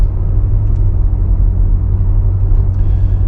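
A truck driving on a damp road with a few wet patches makes a steady, loud low rumble of engine and tyres that holds constant throughout, with no voices.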